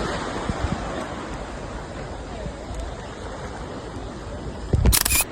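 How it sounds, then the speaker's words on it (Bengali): Steady roar of ocean surf washing onto Kuakata sea beach in Bangladesh, a continuous broadband rush of waves with wind, ending in a brief loud close-up burst of handling noise. "বিচে এখন প্রচুর ঢেউ আছে এবং আমরা এখনই গোসল করে মজা পাবো এই যে দেখতেছেন কি ঢেউ"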